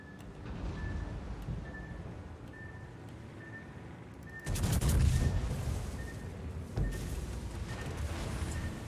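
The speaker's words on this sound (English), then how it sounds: "I'm gonna eat a bunch of these. I mean, thankfully they're Swedish torpedoes, so they're not very strong" Aircraft-dropped Swedish torpedoes strike a ship in the naval game World of Warships, heard as a sudden heavy booming impact followed by continued rumbling blasts over a steady background with periodic short beeps, with no talking.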